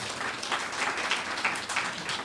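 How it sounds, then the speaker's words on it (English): A crowd at a school awards ceremony claps steadily, a dense, even round of applause with no voices over it. "I think we should give the teachers a big, big round of applause"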